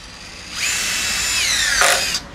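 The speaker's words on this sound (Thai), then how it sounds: "น้องไมค์ลองเจาะไหมเจาะเป็นป่ะครับ" A Makita 40V cordless drill spins up and drills with a loud, steady whine that rises in pitch before cutting off, with no talk over it.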